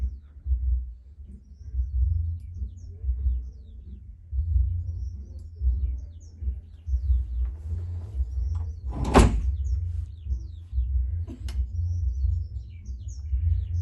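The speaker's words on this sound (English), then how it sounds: "It almost sounded like a door closed behind you too" A door closing in a played spatial audio demo: a single sharp thud near the middle, followed by a fainter knock, over a steady low rumble.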